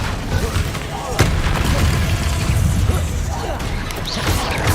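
Confringo and Bombarda explosion spells in Hogwarts Legacy go off as booms and crashes amid a continuous rumbling combat din, with a player talking over it.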